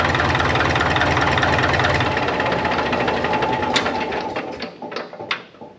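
A Caterpillar D4 diesel engine idles with a steady, dense low rumble and clatter, then winds down and stops, leaving a few sparse knocks and clicks fading toward quiet at the end.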